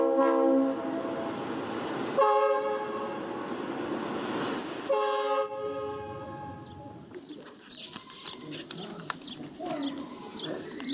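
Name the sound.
train passing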